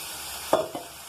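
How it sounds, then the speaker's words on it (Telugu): Chicken pieces frying in a pan with turmeric and chilies, a steady hiss of sizzling oil broken by two brief bursts of stirring or pieces shifting, close and even, no voices. "ఇప్పుడు దాంతో చికెన్ ముక్కలన్నీ వేసేసుకున్నాం"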